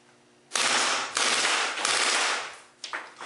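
Cybergun/VFC Smith & Wesson M&P 9C airsoft pistol firing full auto: close, loud rapid bursts of clattering shots in a few quick strings, the last one short as the magazine runs dry.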